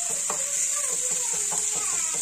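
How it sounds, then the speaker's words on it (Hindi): Garlic ginger paste frying in a pan for chicken Manchurian, a soft continuous sizzle with faint scraping, close and fairly quiet, with no talking. "इसमें डालेंगे लहसुन अदरक का पेस्ट"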